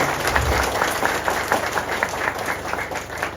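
An audience claps together in a continuous, dense patter of many hands, steady and fairly close throughout.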